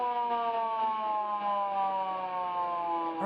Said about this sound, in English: Oh, and then the siren sounds.